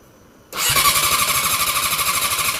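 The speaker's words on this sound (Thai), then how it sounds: "นี่ถ้าเรากดสตาร์ทมันก็จะติดนะครับ เพราะมันสั่งให้บัมติกทำงานนะ" A Yamaha R6 motorcycle engine cranks and catches after a brief quiet moment, settling straight into a loud, steady, close-up idle with a rapid pulsing beat.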